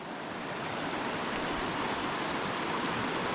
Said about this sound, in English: The river's pretty high, just like I knew it would be.